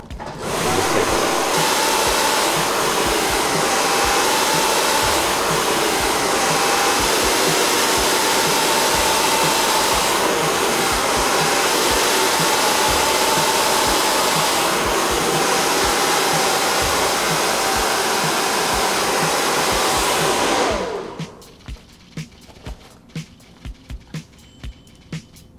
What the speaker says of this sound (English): our blow dryer is right here